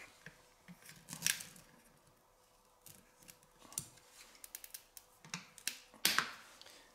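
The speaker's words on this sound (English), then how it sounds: "I take some end cutters here and I'll pry it out as much as I can and cut it" End cutters snip through wires one at a time during a Power Wheels battery upgrade with an 18-volt power tool battery. The sharp, close clicks come in scattered bursts, with small rustling and handling noises between them.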